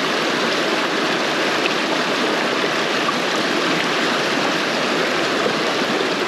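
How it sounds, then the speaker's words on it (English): Steady broadband rush of river water flowing continuously around someone gold panning, close and loud with no speech, an even wash of sound throughout. "Sometimes I like to just go out into the river and pan."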